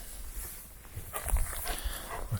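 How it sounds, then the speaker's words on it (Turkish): A pet dog gives a few short, close sounds, with light shuffling and rustling outdoors at a campsite. "İki tane evcil köpek biraz ilginç."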